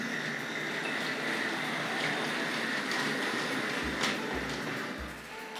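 A Tri-ang Hornby Dublo model locomotive rolls steadily along the track into a siding, a continuous close rumbling whir with faint rhythmic clicks of wheels over rail joints toward the end.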